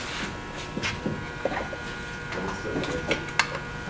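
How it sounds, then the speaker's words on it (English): Torque wrench ratcheting on a small engine bolt, a run of light mechanical clicks and ticks at close range, some sharper than others, over a steady low background hum. "Put the torque wrench back on it."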